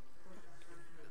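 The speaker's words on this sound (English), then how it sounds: "There's a bee." A bee buzzes steadily in a Bee Movie video game, a continuous insect drone sitting under a busy, loud layer of game sound.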